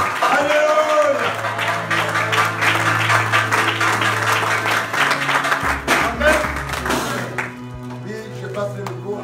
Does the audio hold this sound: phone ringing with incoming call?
no